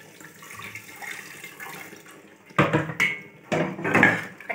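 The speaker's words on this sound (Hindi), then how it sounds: "कुकर में थोड़ा पानी डाल के उसको भी डाल देते हैं।" Water pours into a pressure cooker holding dal, first as a faint trickle, then in two louder gushing bursts, close by and with no talking.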